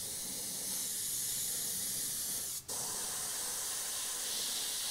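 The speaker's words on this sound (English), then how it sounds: "then you can do a bit of freehand airbrushing as well" An airbrush sprays paint onto a steampunk skull model with a continuous, close, airy hiss that runs throughout, broken only by one brief dip in the middle.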